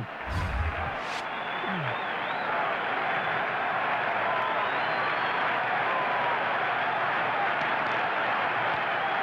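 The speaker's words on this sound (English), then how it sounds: "once again, the crowd comes alive" Baseball stadium crowd at a Yankees home game against the Angels cheering and roaring, a dense sustained wall of noise that swells and holds steady throughout.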